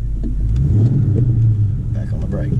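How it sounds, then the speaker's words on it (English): A manual transmission car's engine rumbles and rises briefly as the gas pedal is pressed during a hill start lesson, a low close drone with some voices in the background. "give it a little rev on the gas pedal"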